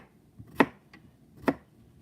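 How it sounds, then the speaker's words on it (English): Vegetables being sliced and cut into quarters at home, two distinct knife chops landing on a board about a second apart, close and clear with quiet in between. "we're slicing it like this and then cutting it into 4s"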